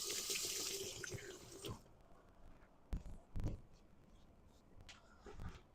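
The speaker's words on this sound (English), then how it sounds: "Let me rinse my hands off." A sink tap runs steadily for under two seconds while hands are rinsed, then shuts off, leaving faint drips and small clunks in a quiet home kitchen.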